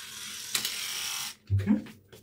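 A Philips Shaver 8000 Series electric shaver buzzes steadily for over a second, then cuts off before a short burst of voices and handling noise.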